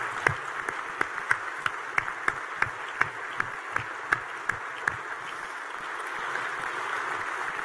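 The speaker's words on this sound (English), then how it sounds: "Please, could we have a round of applause for them as well?" Audience applause at a winter university graduation ceremony: sustained clapping from a large crowd with sharp individual claps standing out near the start, then a steadier wash of hands that carries on to the end.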